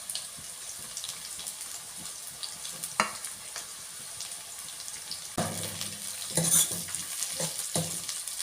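Curry leaves and onions fry on a stove, giving a quiet steady sizzle with intermittent spoon stirs that grow louder and busier toward the end.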